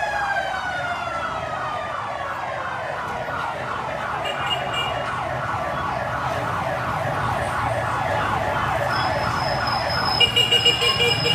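A fire truck siren wails in rapid rising and falling sweeps, loud and close, over the rumble of road traffic on a street in Poblacion, Mandaluyong, near a school.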